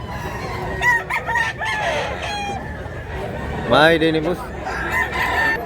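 A Bacolod rooster crows loudly nearby, with clucking and other farm-bird calls and someone talking over it.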